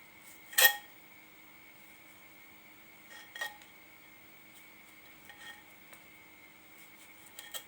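A pestle strikes a mortar holding long beans and tomatoes for a spicy Thai bean salad, giving a handful of irregular, fairly quiet knocks separated by pauses over a faint steady hum.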